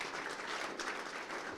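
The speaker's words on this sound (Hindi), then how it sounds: "जोरदार तालियां बजाइए।" Audience applause at a Hindi farmers' question forum in Hisar, an even wash of steady clapping, fairly faint and continuous throughout.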